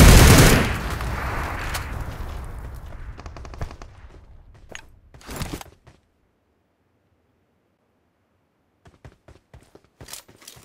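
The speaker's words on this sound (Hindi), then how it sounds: "गोलियों से बचो, गोलियों से बचो।" Gunfire in PUBG Mobile, a loud burst of rapid automatic shots fading into scattered reports and sharp cracks, then near silence broken by a few faint distant shots.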